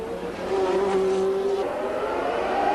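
Formula 1 race cars from the early 1980s accelerating past slower cars, a loud sustained engine whine rising in pitch over a couple of seconds, heard close and steady without talk.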